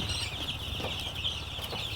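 Chickens cluck softly inside a brooding shed kept warm for young birds in winter, with quiet, scattered calls over a steady low hum.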